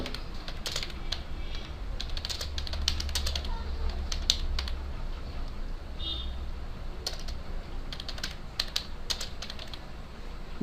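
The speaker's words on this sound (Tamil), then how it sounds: "சும்மா ஏதோ ஒன்று டைப் பண்ணி விடுங்க." Someone typing a reply on a computer keyboard, bursts of crisp rapid key clicks in uneven clusters, close and clear over a low steady hum, with brief pauses between runs.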